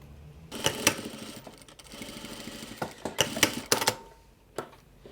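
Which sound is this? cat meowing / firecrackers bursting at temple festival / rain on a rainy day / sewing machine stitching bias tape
sewing machine stitching bias tape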